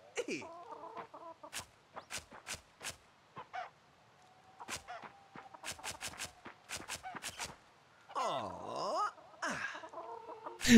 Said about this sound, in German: diese Hühnchen, dass die mir ständig halt im Weg rumrennen